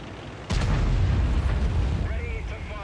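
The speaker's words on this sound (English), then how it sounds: "Auto aim and wipe him out with one shot." A single heavy tank gun blast in a tank video game, a sharp booming shot followed by a rumbling low-frequency tail that lingers for over a second, with faint mechanical whines afterward.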